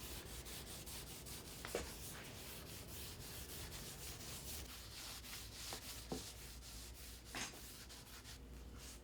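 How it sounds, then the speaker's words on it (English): A rag rubs wood stain onto a DIY floating shelf, giving a steady close scrubbing swish that runs unbroken with a few faint knocks, no voices. "So I'm just going to rub this on with a rag."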